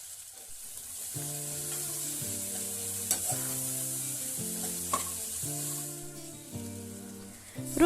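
Coriander powder and other spices are stirred into a hot pan while cooking a masala, with a steady soft sizzle and scraping under background music that holds sustained tones.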